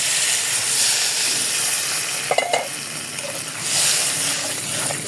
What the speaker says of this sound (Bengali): একদম ভাজা ভাজা করে নিলাম। একটু পানি দিয়ে দিই